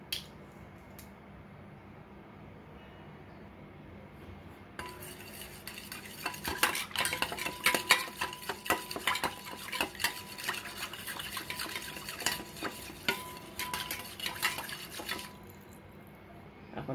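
A spoon stirs and clinks against a bowl as yeast is dissolved in warm milk or water, with rapid scraping and tapping strokes that grow busier in the middle before easing off.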